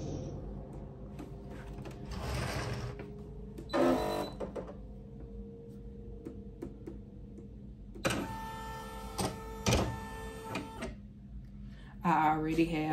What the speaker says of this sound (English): So what I'm going to do now is turn my machine on. I am using the Brother PE 800.